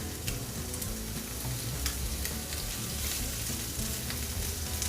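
Peppers sizzle steadily in a hot pan, a dense crackling hiss with scattered pops and occasional stirring scrapes.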